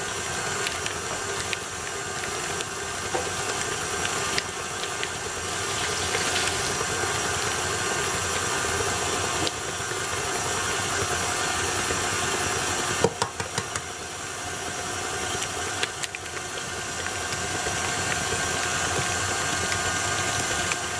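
An electric mixer whirs steadily as eggs are beaten into a smooth cake batter, a constant close motor drone with a faint rattle and a few brief knocks against the bowl.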